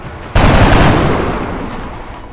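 A single loud rifle shot from a soldier in X-Com: Enemy Within bursts in abruptly after a brief quiet moment, then trails off into a long, slowly fading rumble and echo.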